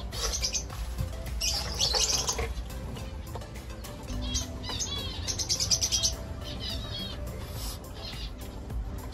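Male zebra finches in a breeding cage giving bursts of high, nasal chirps and tweets, close and fairly loud, with background rustling and handling noise.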